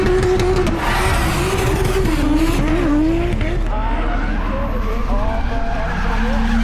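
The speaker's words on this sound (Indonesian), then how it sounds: "tiba-tiba muncul mobil Toyota GT86 yang ngedrip di dekatnya" A Toyota GT86 drifts with loud, sustained tire squeal and a revving engine, the screech wavering in pitch over a steady roar throughout.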